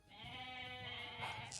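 A goat bleats in a video game right after a goat upgrade is picked up, one drawn-out wavering cry that fills the short moment, loud and close with no talking over it.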